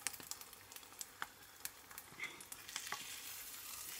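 An egg fries in a pan with a faint, close sizzle, punctuated by scattered sharp pops and crackles, then settling into a denser hiss toward the end.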